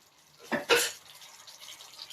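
Two quick splashy gushes of water poured close by into a cooking pot of masala sundal, followed by a soft trickling wash that tails off.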